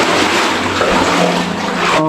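Loud, dense splashing and sloshing as someone wades up out of freezing water inside an old flooded mine, continuous and close.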